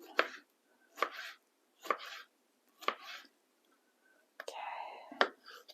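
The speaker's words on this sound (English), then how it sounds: "Don't have to be too accurate with slicing these up." Knife slicing through sausages on a board for sausages and beans, a series of crisp, evenly spaced chops close up with brief quiet gaps between them, ending in a busier burst of cutting.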